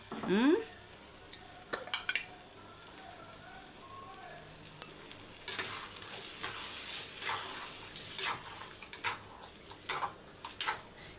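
A spoon stirs curry with water and turmeric in a sizzling pan, with scraping clicks and a steady frying hiss throughout; no voices.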